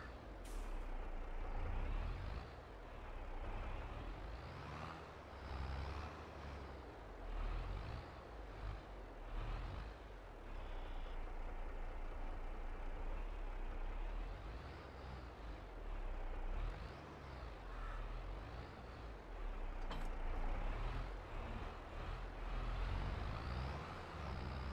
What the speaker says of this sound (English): now we're just gonna back the trailer back in.